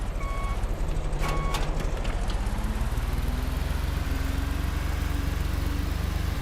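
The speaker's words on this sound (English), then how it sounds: "This tractor has no horsepower." A tractor engine in a farming simulation game runs at a steady, unbroken drone, loud and close, with a faint rising tone partway through and a couple of brief clicks near the start.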